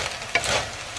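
Piñon nuts are stirred in a pan as they roast, a brief close rustle and rattle of nuts shifting against the pan with a soft sizzling undertone.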